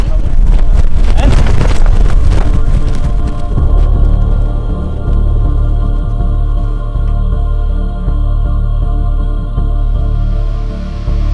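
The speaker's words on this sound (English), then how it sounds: "And it's already windy." Strong 25 to 35 knot wind at a windsurf foiling competition buffets the microphone with a heavy, continuous low rumble, gusting harder at the start.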